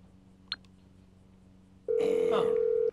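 An in-game telephone in Grand Theft Auto gives one sustained electronic ring tone lasting about a second. It arrives abruptly after a quiet stretch with a faint click and is loud and close.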